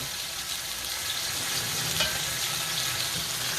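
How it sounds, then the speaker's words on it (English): Cornish hen wings sizzle and fry steadily in a hot pan as they brown, a continuous dense crackle up close with a slight stirring or pressing sound midway. "flatten them down like so they can get a nice browning on them"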